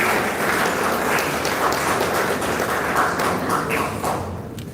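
Audience applause at a memorial lecture, steady and sustained clapping filling the hall for several seconds before tapering off at the end.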